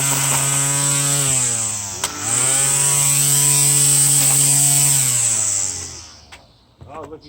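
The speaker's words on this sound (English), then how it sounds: "And put it into my weed whacker. And we get to weed whack a little bit." A battery-powered weed whacker runs close and loud, its electric motor giving a steady high whine that dips and swells in pitch as it cuts, then winds down near the end.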